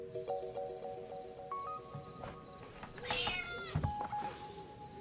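A cat meows a few times in the video game Dordogne, one drawn-out cry rising then falling, against a quiet background of sustained tones and faint rustling.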